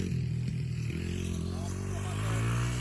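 A motorcycle pulls away from a standing start in a backyard race, its engine note climbing steadily over about three seconds while voices shout over it.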